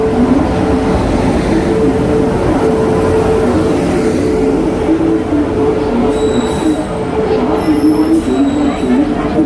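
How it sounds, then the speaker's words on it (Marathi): Steady rumble of the Rajdhani Express rolling into Vasai station, with squealing wheels and high metallic tones on the rails; voices murmur faintly underneath. "चला मित्रांनो ट्रेन आलेली आहे आपली"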